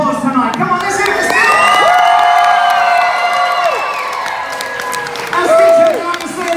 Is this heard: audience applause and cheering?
yes